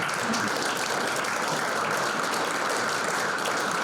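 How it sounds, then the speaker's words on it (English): Audience applause for honorees at a chamber of commerce annual awards breakfast, a steady dense wash of clapping from a room full of people, sustained evenly throughout. "let's give them a round of applause"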